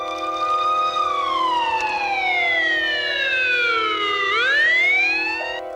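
Ambulance siren wailing alone, with a long falling tone that sweeps back up near the end over a steady drone, fairly close and clear, no voices.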